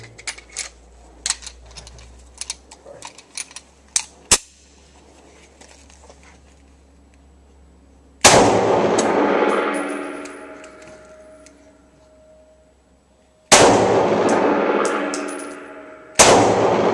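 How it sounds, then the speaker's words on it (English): A Glock pistol fires test rounds of various 9mm ammunition, including Ruger ARX, outdoors. Three sharp, loud reports come seconds apart, each ringing out in a long decaying echo, after scattered small clinks and taps. "this is 2 rounds of each out of the Glock"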